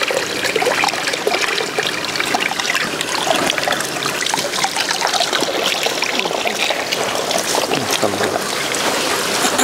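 Pieces of tongkol tuna are rinsed in water, a loud close continuous sloshing and splashing with trickling, steady throughout and without speech.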